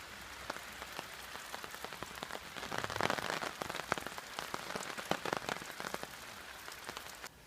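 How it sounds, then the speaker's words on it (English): Steady rain patters on a taut tarp, a dense crackle of drops with occasional louder taps, continuous and close, no voices. "It's still raining."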